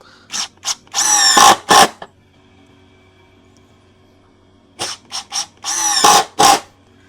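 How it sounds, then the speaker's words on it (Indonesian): A DongCheng DCPL165 cordless impact driver on high mode drives screws in two bursts, each a run of sharp, rattling impact hammering, loud and close, with a quiet pause between. "Enak banget nih impact driver buat nyekrup"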